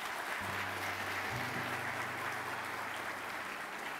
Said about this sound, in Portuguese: Tem que aplaudir o Senhor, pelo amor de Deus